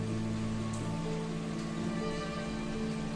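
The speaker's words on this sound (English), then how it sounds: "I just like a nice heavy rain." Heavy rain falls steadily during Hurricane Milton, a dense, even hiss of drops on surfaces heard up close, with a low tonal hum underneath and no talking.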